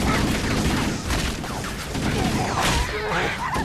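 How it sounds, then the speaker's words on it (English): Assault rifle gunfire in the game Halo Anniversary, a sustained rattling burst of rapid shots mixed with crashing impacts and game effects, loud and close. "Assault rifle is so good."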